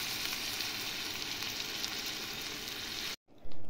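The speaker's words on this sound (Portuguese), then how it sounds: "vou dar uma refogadinha nele aqui" Potatoes sautéing in a pan for fish broth, a steady close hiss of sizzling that cuts off briefly near the end before resuming.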